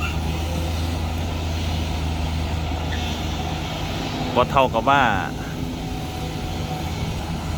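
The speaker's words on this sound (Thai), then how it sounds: "รอบเครื่องยนต์ก็ประมาณเท่า ๆกันครับตอนนี้" CAT and SANY excavator engines run together at similar revs, a steady loud diesel drone with a brief burst of beeping or horn tones midway as someone talks over it.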